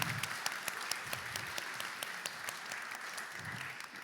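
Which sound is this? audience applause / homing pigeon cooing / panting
audience applause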